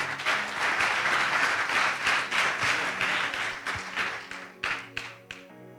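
A church congregation at a Bible camp applauds and cheers for the Lord, a dense sustained roar of clapping that thins into scattered claps toward the end, with faint music beneath.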